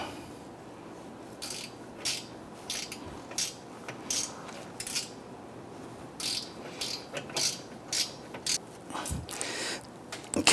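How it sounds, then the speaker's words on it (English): Gear wrench ratcheting a bolt down while replacing an upstream O2 sensor on a 2011-2021 Jeep Grand Cherokee 3.6L V6, a series of quick clicking bursts, close and fairly quiet, repeated in short runs. "I was able to pop my gear wrench onto this here to go ahead and run this down a little bit."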